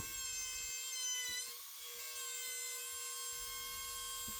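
A handheld router fitted with a chamfer bit cuts along the inside edges of a wooden box, a steady high-pitched whine holding throughout with a brief dip in loudness partway through; no one speaks.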